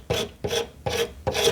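Carbide scraper rasping old finish off an abused wooden Drexel dresser: four firm, evenly spaced scraping strokes, each a loud gritty rasp of about a third of a second, close up with no talk.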